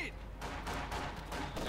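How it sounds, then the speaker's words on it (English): Rapid gunfire from squads fighting in Company of Heroes 2 crackles steadily throughout, blended with battle noise, while a commentator talks over it. "opening up there on the shock troopers. They're shooting left and right here."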